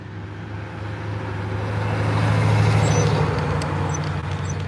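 A truck passing on a street during a scooter ride, a broad road rumble that swells to a peak mid-way and then eases, with a faint hiss of traffic and no talking.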